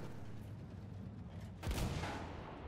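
In Battlefield 1, a tank cannon fires once, a single heavy boom landing mid-clip over quiet background battle noise.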